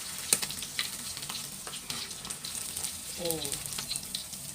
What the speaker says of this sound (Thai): ทอดไฟกลางๆนะคะ จนเหลืองจังมาเบิองกางจ้า